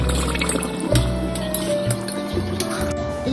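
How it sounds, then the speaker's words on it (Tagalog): Water draining from a bowl of rice being washed a second time in a home kitchen, with close clinking of the bowl and trickling liquid over a steady low background hum. "I-drain ko na ng pangalawang beses."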